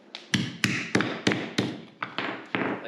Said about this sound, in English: And the hammer getting the shape in it.